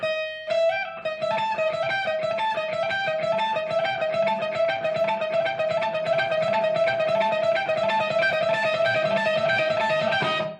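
An electric guitar plays a quick, repeating pentatonic lick, notes alternating steadily and evenly, clear and close with no talking.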